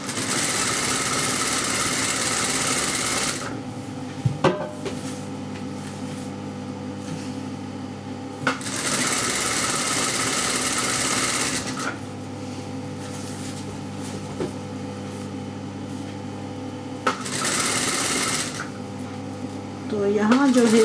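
A sewing machine stitches cloth for a tulip salwar, running in several long steady bursts with pauses between, close and fairly loud, with a person talking over and between the runs.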